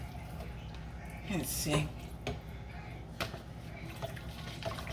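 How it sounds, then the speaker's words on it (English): Beef broth poured into a pot of oxtails in a home kitchen, a faint brief splash and trickle of liquid under a voice speaking briefly. "Let's pour a little bit more beef broth."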